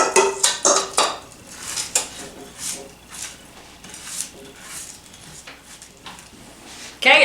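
Pretzel crumb mixture spread and pressed across the bottom of a baking pan for chocolate chip bars, giving a run of close scraping and clinking utensil-on-pan sounds, busiest at the start, then softer, with a sharp clatter at the end.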